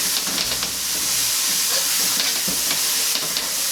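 Chives sizzle loudly in a hot wok being seasoned, a steady frying hiss close up, broken by a few scraping stirs of the spatula.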